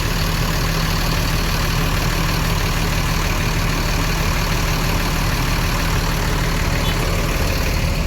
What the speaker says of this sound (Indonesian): semua bus ya dicek mesin-mesinnya